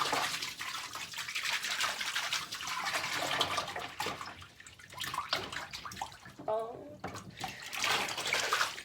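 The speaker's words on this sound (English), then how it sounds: "I use like this type of motion in the water to mix it all up" A hand swishes through a basin of water to mix conditioner for washing wigs, giving continuous close sloshing and splashing with a brief lull partway through.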